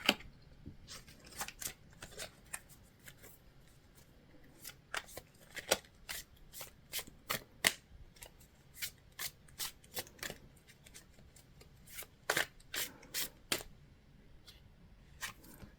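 Tarot cards are shuffled close up in quiet, crisp irregular riffling flicks and slaps repeating throughout, soft and alone.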